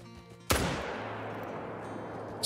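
A single hunting rifle shot in the video game Call of the Wild cracks suddenly and loud, then rolls away in a long fading echo across open fields.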